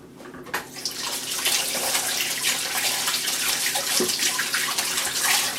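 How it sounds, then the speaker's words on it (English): Tap water runs steadily into a kitchen sink as hands are washed while baking custard tart, a loud continuous splashing rush that starts abruptly after a brief quiet moment, with no voices. "I'm just going to wash my hands again"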